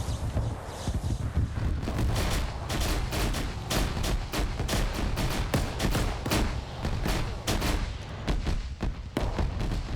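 A World War II rifle firing line in a video game lets off volley after volley: dense, sharp cracks in quick, uneven succession over a rumbling battlefield background.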